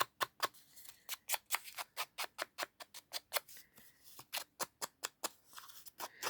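Scissors scrape along paper edges to distress them for a scrapbooking card, a steady run of short dry rasping strokes, close and fairly quiet, repeated at a brisk even pace.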